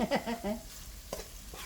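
Ginger sautés in a pan with a soft, steady sizzle, and a brief voice is heard at the very start.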